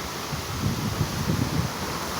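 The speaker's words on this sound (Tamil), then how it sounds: "பாருங்கள் காற்று எவ்வளோ வேகமாக அடிக்குதுன்னு" Storm wind whips past during heavy weather with rain, a continuous loud rush with low buffeting gusts close to the microphone.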